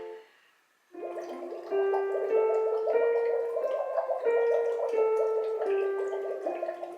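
A singer blows voiced bubbles into water as a vocal exercise, a close, steady gurgling carrying sustained sung pitches that step between notes after a brief quiet start.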